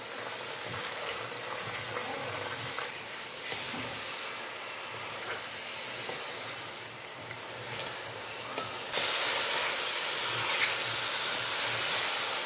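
Chicken pieces sizzle in a hot pan while a spicy chicken karahi cooks with onions. A steady broad hiss of frying runs throughout and grows louder and harsher toward the end.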